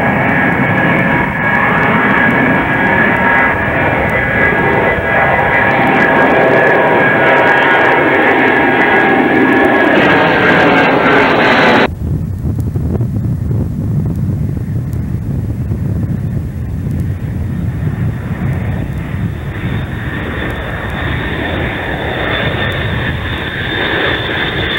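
Boeing C-135 jets at McConnell AFB in May 1994, including EC-135C, KC-135E and KC-135R, roaring loudly and continuously with a harsh high whine that gives way to a deep, rumbling roar.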